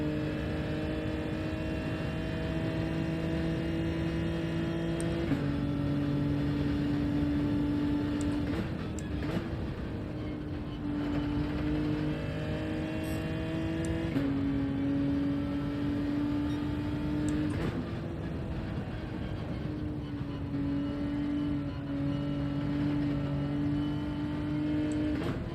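A GT3 race car engine in a racing video game holds steady high revs through the Porsche curves, with repeated shifts and brief lifts, loud and continuous with no talk.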